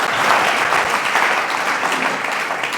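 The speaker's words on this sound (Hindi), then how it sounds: "और मनोज भैया ताली बजा रहे, बताओ किसके लिए बजा रहे?" Audience at a spiritual talk clapping hands, a full, even burst of applause from many people lasting a few seconds, close and loud with no speech over it.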